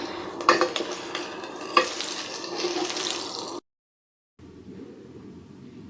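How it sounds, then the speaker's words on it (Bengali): Crushed garlic and green chili hit hot oil with fried onion in a pan, giving a loud crackling sizzle with sharp spatula knocks before stopping abruptly, then a quieter steady frying hiss after a brief silence. "পেঁয়াজটা ভেজে নিয়ে এখন আমি দিয়ে দিচ্ছি থেতো করা রসুন আর এই মরিচ।"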